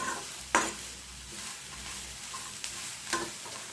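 Garlic and green chilli masala being stirred in a hot pan, with a soft steady sizzle beneath and a few sharp spatula scrapes and taps against the metal, close and with no voices.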